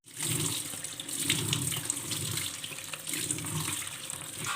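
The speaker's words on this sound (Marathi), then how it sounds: "तर चला मी हा स्वच्छ धुवून घेते" Cluster beans are rinsed under a running kitchen tap, a steady close hiss of flowing water with shifting splashes as the pods are moved about, and no one speaking.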